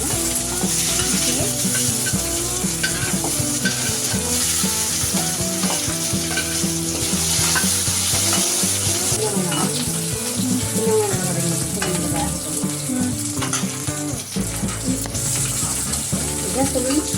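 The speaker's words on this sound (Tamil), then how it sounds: "வெந்தயம் கொஞ்சம் கருக ஆரம்பிச்சு. சரி. அப்புறம் கருவேப்பிலை நல்லா வெள்ளையை நல்லா பொன்னிறமாக வச்சுட்டு இது சின்ன வெங்காயம் போட்டுக்கணும்." Shallots fry with fenugreek and curry leaves for a puli kuzhambu masala gravy, making a continuous loud sizzle with stirring. It runs close and unbroken, with tonal background sounds underneath.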